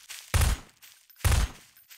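Two heavy gunshot blasts in Prop Hunt, roughly a second apart, each loud and booming with a short rumbling tail.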